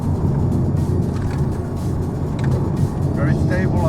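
Turbocharged inline-four engine of an Alpine A110 running at high speed, a loud steady drone heard from inside the cabin with road and wind noise, under a speaking voice.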